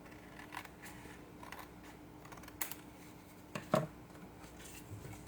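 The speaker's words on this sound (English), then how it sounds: "Grab a pair of scissors" Scissors make a quick cut through paper while trimming junk journal tags, a single faint, close snip over a quiet room.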